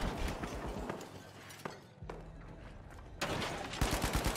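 Gunfire from several teams in The Finals Season 2 video game, bursts of rapid shots and thuds broken by a quieter lull before a dense, loud volley returns near the end.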